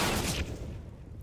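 A short burst of CS:GO gunfire from a pro match between Astralis and Vitality sounds as a quick, fairly faint rattle of shots that tapers off, with no voices over it.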